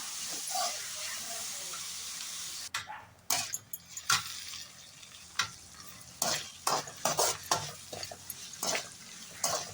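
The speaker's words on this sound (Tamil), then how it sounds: "பெரிய வெங்காயம் நல்லா நிறமாறி வரணும் அது வரைக்கும் வணக்கிக்கலாம்" Onions sauté in a pan for a home-cooked beef gravy, giving a soft steady sizzle. Repeated close scrapes and clatters of stirring break through the hiss.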